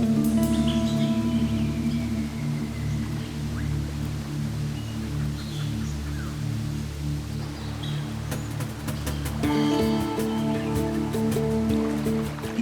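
A picturesque waterfall in the Guatemalan wilds gives a steady rushing and splashing of water, continuous and fairly distant, with a few sharper clicks and splashes toward the end.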